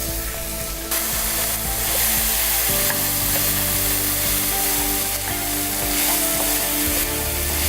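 Diced pork sears with browned onions in a pan, a loud continuous sizzle and crackle that swells as the meat goes in, with occasional light spatula scrapes and no voices.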